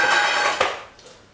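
Pasta pours into a saucepan in a kitchen while a pasta salad is being made, giving a short, loud, dry rattle that fades quickly, with a couple of small knocks at the end.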